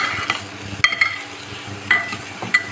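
Onions and tomato for bottle gourd kurma sautéing in a pan, a soft steady sizzle broken by a few sharp scrapes and clinks of a spoon stirring against the metal, with no talking.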